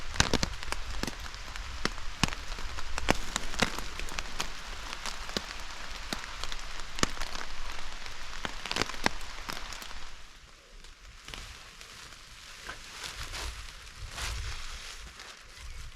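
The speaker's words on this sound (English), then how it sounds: "We've survived the downpour." Heavy rain drums on a bin bag shelter at a wild camp in the UK, a dense, steady close patter that eases slightly toward the end, with no talking.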